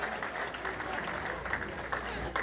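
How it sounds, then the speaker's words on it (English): A crowd at a rally-style gathering breaks into a round of applause, a continuous, fairly faint wash of clapping heard from across the room, with a few sharper claps and a murmur of voices mixed in. "Give yourselves a round of applause, all right?"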